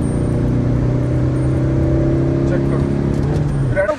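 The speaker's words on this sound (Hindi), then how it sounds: "देखा भाई बूस्ट देखो टर्बो का।" Tata Nexon diesel engine with turbo accelerating, a loud steady engine drone with rising tonal whine, heard from inside the car and easing off at the end.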